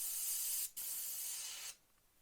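Camouflage paint being airbrushed onto a 1/48 scale Revell PBY-5 Catalina model, two short, close, soft hissing bursts with a brief gap between them.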